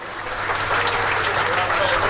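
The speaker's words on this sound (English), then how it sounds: "Huge round of applause for the victors of today, Polo" Crowd applause for the winning team at the Grand Final of the 2018 RSPC Open polo match, a steady wash of clapping that runs the whole time under a loudspeaker announcer's voice.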